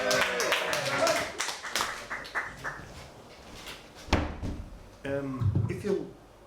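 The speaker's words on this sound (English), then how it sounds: "keep a little clapping going" Audience clapping at a live comedy club show, sparse and uneven under a voice talking loudly over it, with a few sharper claps near the end.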